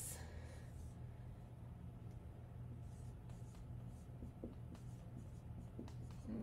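Marker strokes on a board while explaining scoliosis, faint scratchy squeaks and short drawn lines over a constant low room hum.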